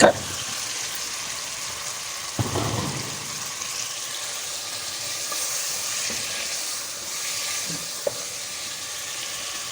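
Chicken pieces sizzle and fry in a karahi, a steady broad hiss with occasional stirring clatters and a louder burst near the start of the stir, continuous and close throughout.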